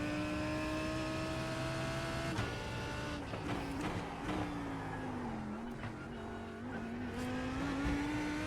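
Lamborghini GT3 race car in the iRacing sim at Imola, its engine droning steadily with shifting pitch as it slides wide through a turn, faint tire scrub riding over the continuous loud motor.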